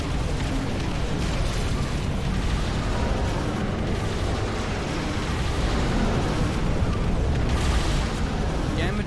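Dense battle explosions and booms from the real-time strategy game Ashes of the Singularity as a jammer unit is destroyed, a loud continuous rumble of overlapping blasts throughout.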